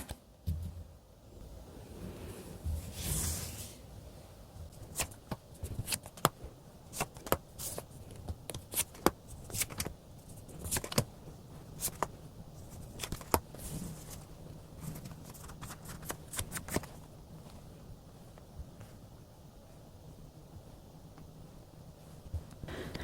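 Tarot cards being shuffled and drawn, soft irregular riffling, slapping and brushing of cards close by, alone and fairly quiet.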